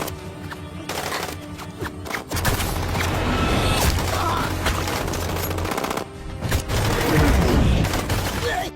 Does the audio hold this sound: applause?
no